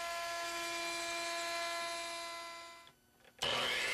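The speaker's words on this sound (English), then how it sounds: "On the router table, we use an OG bit to shape the inside edge of the frame." Router table with an ogee bit shaping the inside edge of a wooden frame, a loud steady high whine that dips briefly near the end and then returns abruptly.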